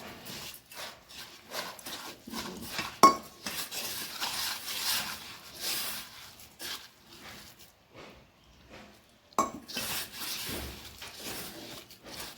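Thick lentil vada batter with curry leaves is stirred and mixed by hand in a bowl, making irregular soft rubbing, scraping and squelching strokes with short pauses, close and fairly quiet.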